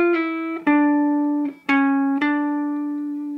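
Electric guitar playing a jazz-style pentatonic lick, a handful of clean sustained single notes, each struck distinctly and ringing, fairly close and moderately loud, with no talk.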